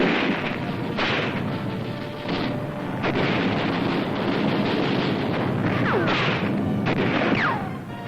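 Gunfire and booming explosions during World War II street fighting in a Philippine city, 1945, heard as a dense continuous roar with repeated sharp bursts and blasts, close and loud throughout.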